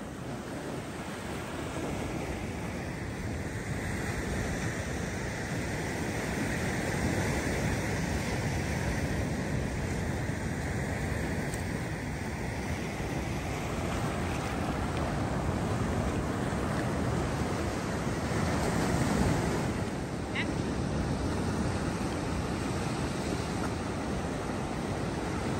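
Ocean waves breaking on a beach at Palm Coast, a continuous broad roar of surf with wind buffeting the microphone, steady and enveloping for the whole stretch, without talk.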